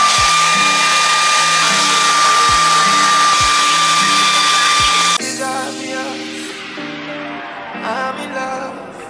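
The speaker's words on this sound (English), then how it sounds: "then blow dry it" A hair dryer blows steadily and loudly for about five seconds while hair is blow-dried, then it cuts off, leaving quieter music-like tones and faint background noise.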